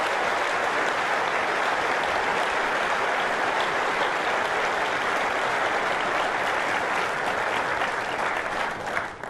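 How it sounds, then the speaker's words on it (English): Audience applause fills a keynote hall at Apple WWDC 2013, a dense, steady wash of clapping from a large crowd that holds for about nine seconds and fades slightly at the end. "Give yourself a round of applause."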